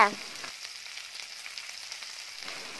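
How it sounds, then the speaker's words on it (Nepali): Onion and garlic frying in hot oil for fiddlehead fern saag, a steady close sizzle that starts with a short clatter of ingredients dropping in, then continues evenly with no talking. "प्याजलाई पनि रातो हुन्जेल फ्राई गर्नुपर्छ।"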